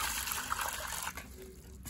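Water scooped up by hand from a leaf-strewn container and poured back, a brief splashing gush that trickles off and quiets within two seconds.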